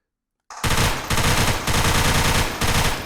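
Rapid automatic gunfire from a weapon in the UE4 game The Hadron Effect, loud bursts of rounds firing in three or four quick runs separated by short pauses.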